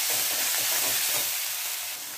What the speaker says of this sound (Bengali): পেঁয়াজ হালকা নেড়ে নিয়ে দিয়ে দিচ্ছি 1 চামচ ভর্তি ভর্তি আদা রসুন বাটা।